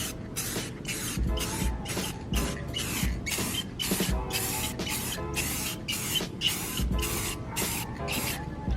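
Final clear coat spraying onto a restored headlight of a 2005 Acura RSX, a rapid series of short aerosol bursts with brief gaps, close and loud, with no talk.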